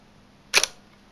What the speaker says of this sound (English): So the mirror pops up